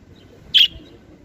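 A single short, high chirp from a pet budgerigar sounds once against a quiet, low background hum.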